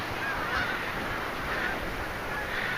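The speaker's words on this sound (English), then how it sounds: "those are geese up there. Canadian geese flying. Honking away." Canada geese honk in the distance over a constant broad outdoor rush at a beach, their calls faint and scattered across the few seconds.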